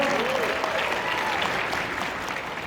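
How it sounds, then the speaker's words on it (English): A convention audience at GalaxyCon Richmond applauds steadily throughout, a dense wash of many hands clapping at even loudness, with a few faint voices and whoops rising above it. "you call that an applause, for goodness sake"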